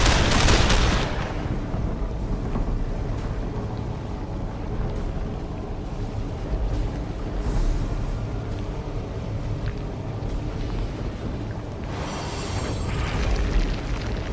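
Loud, dense artillery barrage in Lamplighter's League, a continuous rumble of booming explosions with a heavy blast at the start and another swell near the end, no voices.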